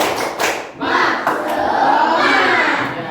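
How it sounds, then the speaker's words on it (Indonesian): A classroom group does a spirit clap, a few sharp rhythmic claps and thumps at the start, then a sustained chorus of young voices shouting together that carries on to the end. "Tepuk semangat."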